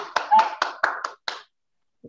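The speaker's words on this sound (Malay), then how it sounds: "silakan puan Norliana berbagi tepukan" Short applause at an online sharing session: about six quick, crisp hand claps in a loose rhythm over a second, close to the microphone, then silence.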